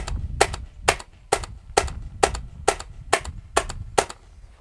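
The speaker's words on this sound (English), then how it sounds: "I'm only going to do 10 shots this time." A Tippmann Phenom paintball marker fires a steady string of ten sharp, evenly spaced shots, each a crisp pop with a brief rattle, close and loud with no talking.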